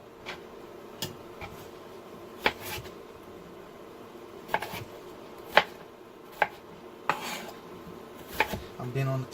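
Potatoes being chopped into manageable pieces with a knife on a board, sharp irregular knocks spaced a second or two apart over a soft background hum, no voices.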